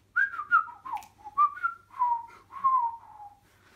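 A person whistles a bright, wavering tune alone and close up, in several short phrases with small gaps between them.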